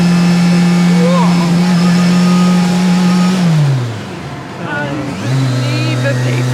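Turbocharged and supercharged street-legal Lancia Delta S4 Group B rally car revving hard and loud, pitch climbing steadily before dropping on a gear change, then pulling again at high revs, with excited voices over the engine.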